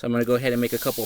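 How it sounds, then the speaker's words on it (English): Wire brush scraped across foam, producing a breathy, hissing scrape in rapid strokes, heard beneath someone talking close to the microphone. "Sorry for the noise. It is wire brush on foam."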